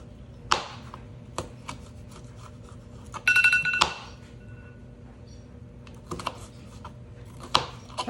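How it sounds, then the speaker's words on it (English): A kitchen timer goes off for boiling pasta noodles: a short burst of electronic beeping in the middle, surrounded by scattered kitchen clicks and clatter. "That was our timer to take our noodles off."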